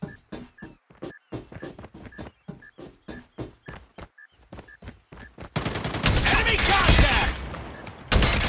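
Gunfire in the video game Call of Duty Mobile comes as evenly spaced, close single shots. It then gives way to a dense, loud burst of sustained firing and blasts near the end.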